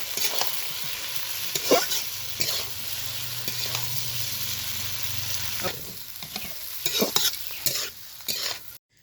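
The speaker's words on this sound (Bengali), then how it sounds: "রুটি কাটাগুলো খুব ভালোভাবে আলতো হাতে একটু মিশিয়ে নিব" Cut pieces of wheat roti are tossed and stirred with sautéed vegetables in a pan, a soft continuous sizzle broken by repeated scraping strokes of a spatula, fairly quiet and close.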